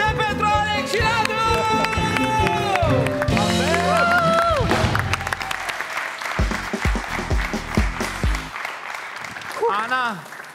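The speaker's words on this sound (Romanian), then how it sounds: "Aplauze pentru Alex și Radu!" Studio audience applause and cheering on the Romanian Wheel of Fortune game show Roata Norocului, loud and sustained for about ten seconds, mixed with a bright musical jingle and brief voices.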